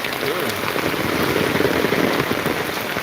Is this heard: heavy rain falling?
yes